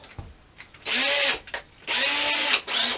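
Power drill deburring the edges of drilled holes in MDF board, two loud sustained whirring bursts, each about a second long, with short pauses and faint handling noise between them, close up.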